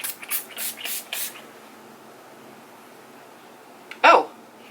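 A bottle is shaken with several quick rattling bursts, followed after a pause by a single short hiss of spray.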